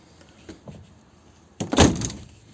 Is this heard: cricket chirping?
no